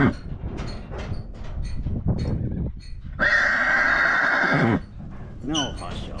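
Yearling horses neigh near the camera, one long loud whinny in the middle plus shorter snorts and calls, with people talking over and between them.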